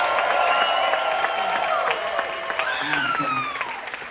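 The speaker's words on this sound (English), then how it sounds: "Can we give them a massive round of applause, everybody?" Audience applause and cheering from a cruise ship show crowd on the Carnival Liberty, a steady wash of clapping beneath an amplified host's voice and scattered shouts.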